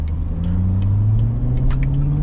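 A 700-horsepower Corvette's stock exhaust rumbles steadily up close while a series of sharp pops and crackles burst over the engine drone.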